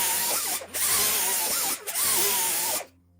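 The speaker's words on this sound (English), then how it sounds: "now we're gonna start to bevel this joint at a 45-degree angle" Power tool grinding a metal joint to a 45-degree bevel with an 80 grit abrasive. It makes a steady high whine in three passes, with the pitch dipping briefly between them before it cuts off.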